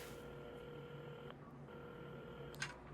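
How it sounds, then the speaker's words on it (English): Telephone dialing in the puzzle video game Assemble With Care: steady electronic tones with a brief break, then a short click near the end, fairly faint and with no talking. "at the counter, Carmen had started dialing the phone"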